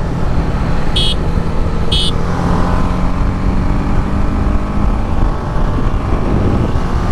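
RR310 and Interceptor 650 motorcycles accelerate hard in fifth gear, a steady loud engine roar blended with heavy wind rush over the whole stretch, with two short beeps early on.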